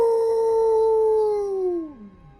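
A wolf howls back with a single loud, sustained tone that drops and trails off, heard close and without talk.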